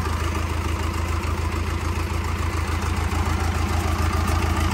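A 4102 diesel engine without a turbo runs smoothly with a loud, close, steady low rumble and even chugging pulse, and no change in pace.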